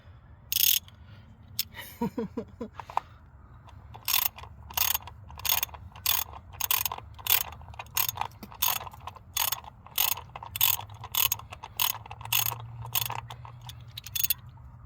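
Ratchet fitted with a 10 mm socket working on a 2004 Honda engine during a spark plug and coil pack job, a brief scrape and clatter at first, then a long run of crisp, evenly spaced clicks, close and fairly loud.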